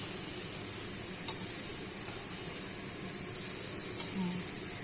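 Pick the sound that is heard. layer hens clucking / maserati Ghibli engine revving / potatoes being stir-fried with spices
potatoes being stir-fried with spices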